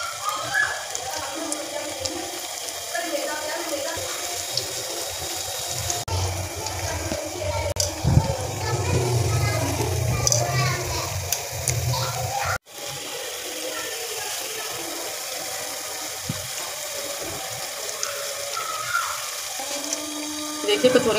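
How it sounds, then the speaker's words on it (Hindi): Kachoris, pakoda-style dumplings for kadhi, fry in a pan of hot oil with a steady, close hiss and crackle that carries on throughout, briefly cut off midway. "देखिए कचौरियाँ हम तल लेंगे।"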